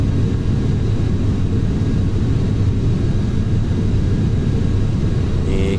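Boeing 737-800 taking off in Flight Simulator X, a steady, loud, constant jet engine roar and rumble that carries throughout with no break.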